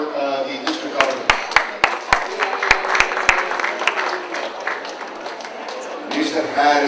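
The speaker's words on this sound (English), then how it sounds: "Give a round of applause for the district governor." A room of attendees applauds the district governor, a burst of clapping with sharp individual claps near the start, blending into steady applause that tapers off, with a voice talking beneath.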